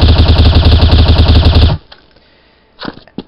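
A Counter-Strike: Source weapon sprays in a loud, rapid automatic burst of evenly spaced shots for under two seconds, then cuts off sharply, leaving near-silence and a few faint clicks.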